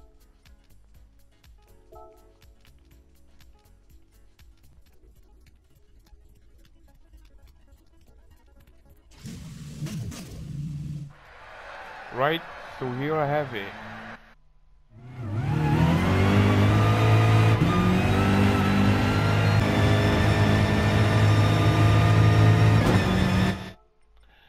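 A BMW M6 in Gran Turismo Sport at Mount Panorama: after a brief spoken line, short engine blips rise and fall, then a loud sustained high-revving roar holds for several seconds before cutting off.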